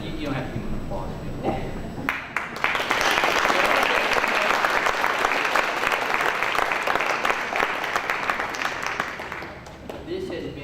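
A school audience at a Kentucky history play applauds the performers' parents, sustained, dense clapping from a full room that swells quickly and holds steady before easing off, with brief talk at the start and end.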